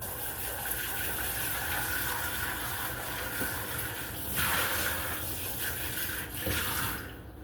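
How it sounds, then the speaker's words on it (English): A bowl is washed under a running kitchen tap after breakfast burrito batter has been mixed in it, with water rushing steadily and loudly and a few faint knocks from the bowl. "We'll go ahead and wash our bowl."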